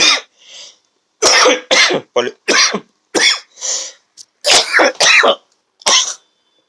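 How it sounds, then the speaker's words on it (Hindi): A person coughs repeatedly and harshly, with short bursts and throat-clearing sounds close up, separated by brief silent pauses. "कुछ ज़्यादा ही खांसी आ रही है"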